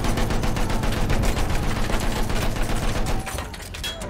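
Rapid machine gun fire in the video game Battlefield 1, a loud sustained rattle of close bursts that eases off near the end into quieter mechanical clatter.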